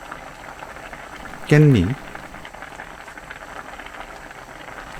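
Gochujang mackerel stew bubbles in a pot with a soft, continuous simmering hiss, while a voice speaks briefly over it near the middle.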